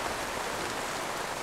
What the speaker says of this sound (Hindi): मैं बोल ही रहा था कि बारिश स्टार्ट हो सकता है, इतना तेज स्टार्ट हो गया ना